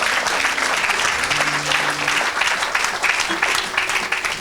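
A church congregation applauding for Jesus during a service: sustained, steady clapping from a large crowd fills the whole stretch, with scattered cheers and voices mixed in.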